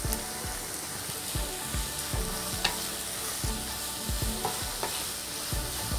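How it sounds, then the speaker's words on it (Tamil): Steady sizzling as onions, garlic and curry leaves fry in a pan, with occasional scrapes and stirring clatters of a utensil, close and continuous. "எல்லாத்தையும் சேர்த்து வெங்காயம் பொன்னிறம் ஆகிற வரைக்கும் நல்லா வதக்கி எடுத்துக்கலாம்"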